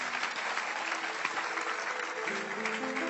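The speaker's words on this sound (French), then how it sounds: "Acclamons Jésus." A church congregation applauds steadily and loudly, a dense continuous clapping crowd with a faint sustained musical tone beneath it.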